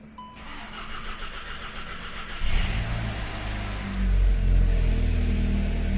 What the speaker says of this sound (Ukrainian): Так, двигун запустився, начебто все працює.